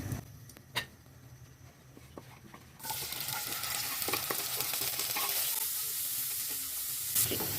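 Oil heating in a pan rises from a faint hiss into a loud, steady crackling sizzle once food goes in, with a few stirring taps along the way.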